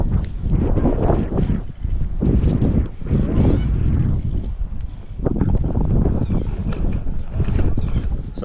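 Strong, gusty wind batters the microphone on a tropical island at low tide, coming as loud low roaring bursts that rise and fall irregularly, with a voice faintly audible at times.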